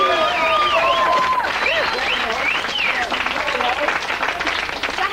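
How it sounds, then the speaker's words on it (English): A studio audience claps on a vintage television chat show, a steady wash of applause lasting several seconds while voices, whoops and cheers ride loudly over the top. "A round of applause."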